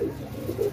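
A pigeon coos close by, soft low throaty calls in a short burst.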